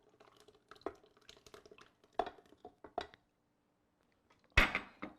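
Wet and dry keto strawberry shortcake ingredients being stirred together in a bowl, giving sparse clinks and soft wet taps with quiet gaps between them and a louder scrape near the end.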